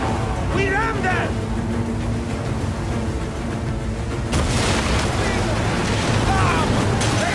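Ships collide in a naval battle in Assassin's Creed Origins, a heavy rumbling crash and churning water under shouting crew voices and game battle noise.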